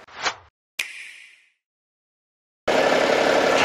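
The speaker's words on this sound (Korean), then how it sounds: "지금 그 소리도 완전히 다 사라져서 엔진 소리도 굉장히 상태가 양호해요." A BMW X6 engine, just back from repair work after earlier knocking and rattling, settles into a steady, even idle. It follows a couple of short, separate clicks and knocks and then runs unbroken to the end.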